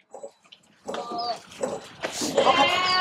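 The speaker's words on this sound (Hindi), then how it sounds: "ये देखो सर ये बकरा है" A goat on a goat farm kept for Eid meat bleats in short, nasal calls close by. Other animals cry nearby, and the bleats grow louder and more frequent toward the end.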